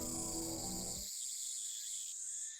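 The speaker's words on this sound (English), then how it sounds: "where the cries of cicadas resound" Cicadas chirp in a quiet, empty place in the Steins;Gate video game. Their loud, steady high-pitched drone continues throughout, while a fuller game ambience cuts out after about a second.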